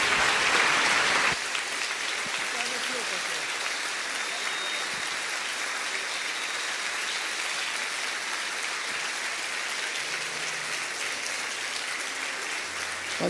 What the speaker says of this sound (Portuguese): os receber o reverendo Hernandes Dias Lopes, aplaudindo o Senhor Jesus.